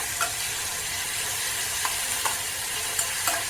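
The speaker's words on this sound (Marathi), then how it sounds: "थोडंसं मीठ टाकायचं आणि परतून घ्यायचं म्हणजे पटकन टोमॅटो शिजला जातो" Tomatoes with salt are being sautéed in a pan, with a steady, close sizzle and a few light stirring scrapes throughout.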